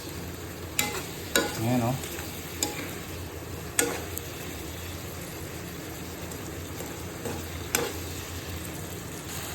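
Adobo cooking in oil in a pan, a low steady sizzle under occasional clinks and stirring scrapes, with a brief word spoken.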